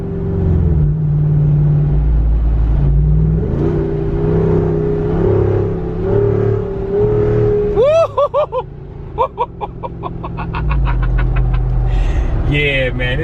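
A 2021 Jeep Wrangler Rubicon 392 with a V8 HEMI engine, a loud close rumble with the engine note rising and falling as it revs, with voices heard over it.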